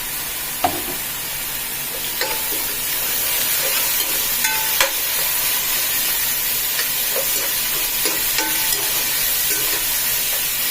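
Green chillies, curry leaves and coriander fry in a pan with a steady, loud sizzle and hiss, punctuated by occasional pops and crackles, with no voices.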